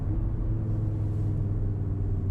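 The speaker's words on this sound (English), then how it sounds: "I can hear the lovely burbles of the engine even as it goes through gears slowly." A 2022 Audi RS 3 engine burbling low and steady while changing gears slowly, a continuous deep rumble from inside the car with no talk.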